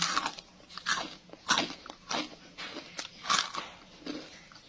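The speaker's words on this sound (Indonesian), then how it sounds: "Kriuk sekali ta jamur crispyku." Crisp crunching bites into crispy fried oyster mushroom, about a dozen sharp crackly bursts in a loose rhythm, close to the mic with quiet gaps between.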